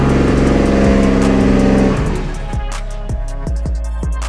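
A Nissan S14 Silvia with a swapped-in Toyota 1JZ-GTE engine cranks with a rhythmic starter chug, catches and fires up, then settles into a loud, close, lumpy idle with regular pulses.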